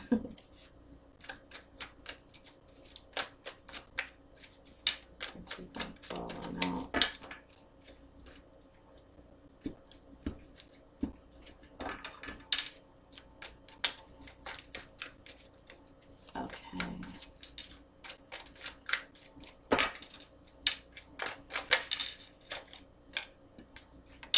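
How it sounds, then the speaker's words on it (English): Tarot cards being shuffled make repeated crisp riffling and flicking bursts, irregular and close, with quiet pauses between handfuls. "I've been shuffling these cards like all day long"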